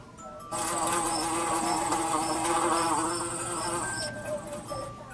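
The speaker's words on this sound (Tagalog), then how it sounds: "Bubuyog." A bee buzzes steadily, a continuous droning hum with slight wavering in pitch, close and moderately loud for several seconds.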